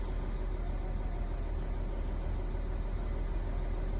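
An Audi A6 C7 with a 3.0 TDI diesel engine and newly installed injector runs in a garage, a steady dense rumble with even noise and no talk, constant in level throughout.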